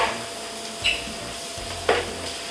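Scallops sear in a hot pan, a steady close sizzle with two sharper scraping stirs or shifts of the pan, and no voices.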